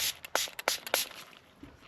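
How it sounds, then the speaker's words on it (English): Several quick, hissing squirts of soapy water from a spray bottle in a fast burst, close and fairly quiet, then a short pause, cleaning a large radio screen. "More soapy spray."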